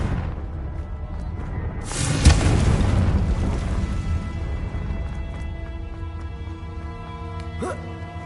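A Confringo spell blast in Hogwarts Legacy: a loud burst erupts about two seconds in, spreading into a rumbling crash and roar that lingers and slowly fades, with a brief sharp flare near the end.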